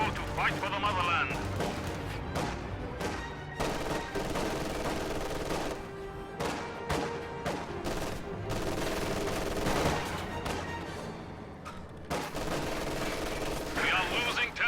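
Artillery barrage and gunfire from a Company of Heroes match, a dense run of repeated blasts and shots mixed with game music and a constant layer of speech throughout.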